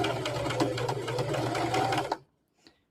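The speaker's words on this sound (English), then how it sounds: "we're just going to sew around it until we get back to the other side" A sewing machine stitches around fabric in a steady, close, rhythmic run for about two seconds, then stops abruptly, followed by a faint click.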